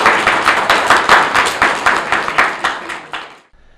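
Clapping at a New Year's Eve city celebration: loud, fairly regular claps that fade in strength before stopping abruptly near the end.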